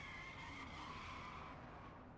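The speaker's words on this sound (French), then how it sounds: "Une voiture passe par là et manque de renverser une passante." A car skids past on a village street at night, a loud continuous tire squeal with engine roar lasting a couple of seconds.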